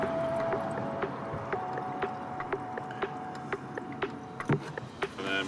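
Water poured by hand into an overheated car engine's cooling system to top it up, a steady gurgling trickle with small splashes and clicks, moderately quiet and alone.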